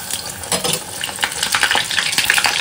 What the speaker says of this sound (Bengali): এই যে কালকে জিয়া ফিশ ফ্রাইগুলো রেডি করেছিল, ওগুলো এখন ভাজবো।